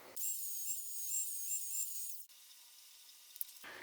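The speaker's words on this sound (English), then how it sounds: "So I'm going to grind that down again, grind that down again." A lathe tool holder being ground down on a grinder makes a loud, steady high-pitched whine for about two seconds, then drops to a quieter, lower whir that tapers off.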